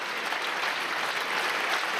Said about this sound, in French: là les applaudissements. Ils descendent bien des travées de ce vent d'espace pour Cindy Perrault